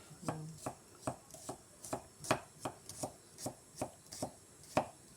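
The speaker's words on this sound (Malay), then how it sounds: "Iris dulu bawang putih dia." A knife taps steadily on a cutting board in a quick, even rhythm, slicing garlic; close but quiet, with no talking.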